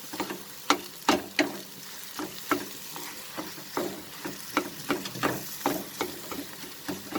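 A spatula scrapes and stirs tomato egg bhurji in a hot pan, giving irregular sharp scraping strokes over a soft steady sizzle, close and clear with no talking.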